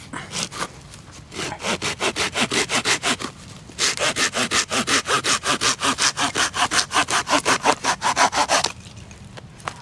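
A hand saw cuts through dry wood outdoors in the woods in a fast, steady back-and-forth rhythm, loud and close, with a short pause partway through and at the end.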